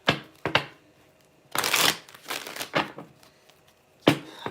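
Playing cards are shuffled by hand in several short, crisp riffling bursts separated by pauses, recorded close in a quiet room.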